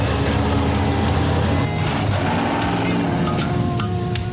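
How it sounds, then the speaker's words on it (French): An El Camino with a 402 big-block V8 rumbles and revs loudly and close by, with mechanical clatter over a deep engine tone. "il est assis sur un bon gros 402 Big Block"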